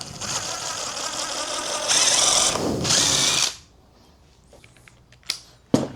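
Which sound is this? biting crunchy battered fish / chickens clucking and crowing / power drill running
power drill running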